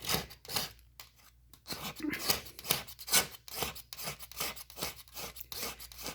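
A sharp blade scraping tough burn marks off a ceramic stove top, heard as a run of short rasping strokes in an uneven rhythm, close and fairly clear, with a voice speaking between strokes.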